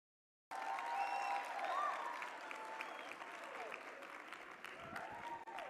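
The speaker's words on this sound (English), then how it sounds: "Please give a warm round of applause to Cody Gordon." An audience applauds as Cody Gordon is welcomed on stage at a Motsepe Foundation event: dense, sustained clapping from a crowd with some scattered whoops, starting abruptly and holding steady for several seconds.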